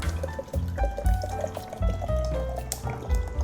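Cold water from the fridge is poured into a shaker bottle, giving a close, bubbling gurgle with uneven glugs and splashes as the container fills.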